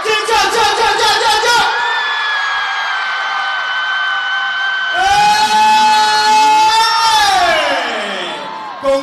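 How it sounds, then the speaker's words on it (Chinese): Crowd of fans screaming and cheering at a singer's 2018 Ballantine's brand launch event, loud sustained shrieks and whoops swelling in two waves with high-pitched voices dominating, close and continuous. "那我要听你尖叫声"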